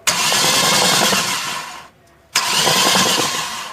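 Toyota Corolla 3ZZ-FE engine cranking during a rebuild with oil in the cylinders, a loud close whirring starter drone in two bursts split by a brief pause, with no voices.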